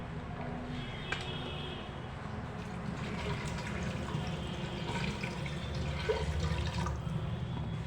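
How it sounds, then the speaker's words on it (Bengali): Water is poured into a pot of masoor dal mixed with papaya and spices, a steady splashing trickle with soft drips, fairly close and alone. "পরিমাণ মতো জল"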